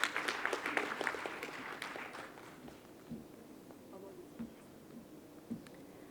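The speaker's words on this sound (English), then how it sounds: "A big round of applause for Yashika." An audience bursts into clapping that fades after a couple of seconds into scattered claps and murmurs.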